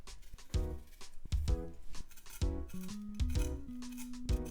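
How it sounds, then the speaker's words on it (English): Skin being peeled off a piece of ginger in a home kitchen, heard as short close scraping and rasping strokes at a soft level, with faint tonal noise in the background. "for the ginger, I'll probably just need half of this as well. Peel the skin off."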